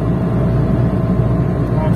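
Steady, loud engine and road drone inside a Lada Niva Travel cruising at 120 km/h, a continuous low rumble with no letup.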